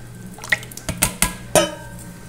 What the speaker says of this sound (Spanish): Vamos a agregar el jugo del tamarindo.